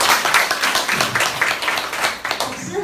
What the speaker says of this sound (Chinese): 鼓掌欢迎雅丽